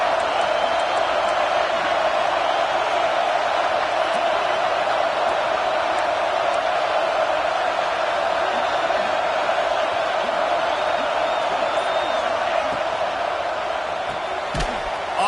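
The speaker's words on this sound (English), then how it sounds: "Decibels rising as the crowd gets behind this defense on 3rd down" A dense stadium crowd roars continuously behind the defense on a 3rd down in a football game, a loud steady wall of cheering with a sharp slam near the end.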